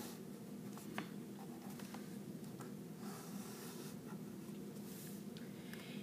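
Pen or marker scratching across paper while a quadratic graph is sketched by hand, a steady run of soft scraping strokes and taps close by over a constant low hum, with no talking.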